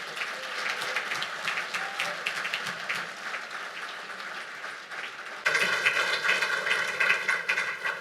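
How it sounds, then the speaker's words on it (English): Audience at a Black business and technology event applauding a keynote speaker, steady crowd clapping that swells louder midway as a musical tone enters underneath. "Would you please give a round of applause to our keynote, Carol H. Williams."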